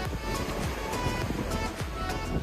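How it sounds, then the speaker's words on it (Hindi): Sea waves in the Maldives rolling in from two sides at once, a steady close wash of surf with repeated soft breaking hisses and wind over the microphone, no voices. "कभी ये नहीं देखा होगा कि दोनों तरफ से लहरें आ रही हैं"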